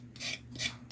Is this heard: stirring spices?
no